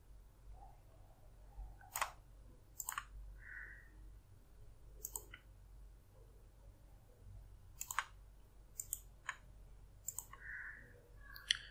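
A computer mouse clicks sharply several times, single and double presses spaced irregularly over a quiet low hum, close and distinct.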